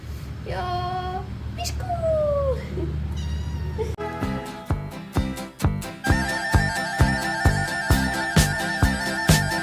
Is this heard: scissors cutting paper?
no